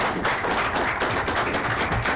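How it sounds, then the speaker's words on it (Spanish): Audience applause in a lively hall, a short dense burst of many hands clapping at steady strength, brief and fairly faint, with no voices. "un aplauso fuerte"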